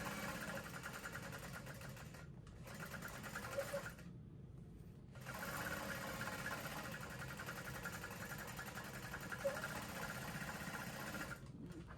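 A sewing machine runs in steady bursts while basting around the lined front pocket of a handbag, a close, even mechanical whir that stops briefly twice before starting again.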